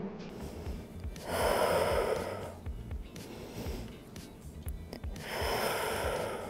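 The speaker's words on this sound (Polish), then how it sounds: "Oddychamy." Heavy breathing during a spine-stretching floor workout: two long, loud, breathy exhalations, one early and one near the end, with quieter breaths in between and no talk.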